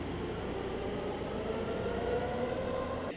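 A Sendai subway Namboku Line train runs underground with a steady, loud rumble of wheels and carriage noise, continuous with no talking.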